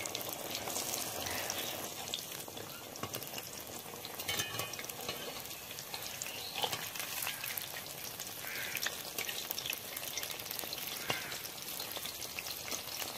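Battered pointed gourd fries in hot oil in a wok over a stove, giving a steady, loud sizzle with crackling and spattering that runs without a break.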